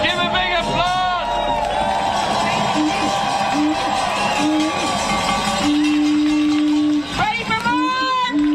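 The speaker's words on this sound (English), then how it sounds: "Give a big applause." Protest crowd at a Chicago rally cheering and whooping loudly, a dense continuous roar of many voices with shouts rising and falling over about eight seconds, a steady tone running underneath and amplified voices briefly at the start.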